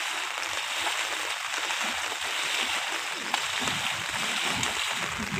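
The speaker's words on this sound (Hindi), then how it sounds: "देखिए कितनी अच्छी लहरें।" Waves of rainwater splashing and washing along in a rainy outdoor setting, a steady, broad hiss of falling and sloshing water with no talking, moderately near and even in level throughout.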